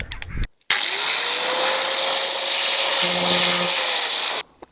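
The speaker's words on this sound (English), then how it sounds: "Second thoughts, that angle grinder might work." An angle grinder spins up with a rising whine and settles into a loud, steady high-pitched drone for about four seconds, with a lower hum joining briefly, before cutting off abruptly, on an upcycling job on old furniture.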